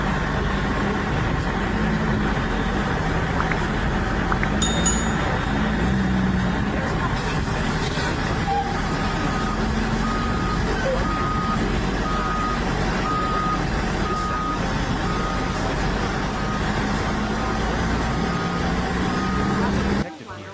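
Busy construction site with trucks moving about and a steady, repeating reversing beep sounding through continuous engine rumble and clatter, with voices mixed into the background.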